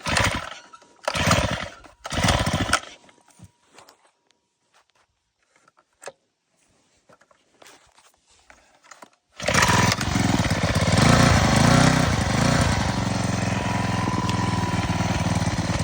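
A few sharp pull-cord rattles and clicks, then a small gasoline engine roars to life and keeps running loudly and steadily up close.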